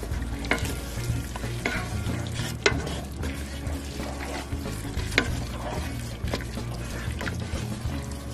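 Onions, garlic, ginger, butter and berbere spice being stirred together in a pot, with a steady close scraping and sizzling that carries sharper clinks of the spoon against the pot at irregular moments throughout.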